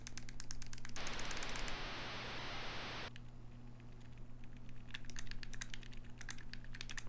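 Rapid, irregular clicks of letters being typed to enter an answer in the NES game Family Feud, close and steady, broken by a two-second burst of loud hissing static, all over a constant low electrical hum with no voices.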